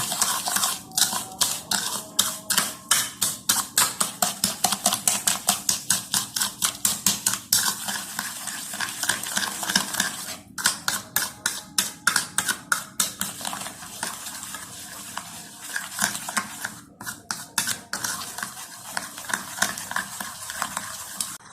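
Eggs and sugar whisked together in a bowl, a long run of quick, even metallic clicks and scrapes against the sides, steady and close, with brief pauses between strokes.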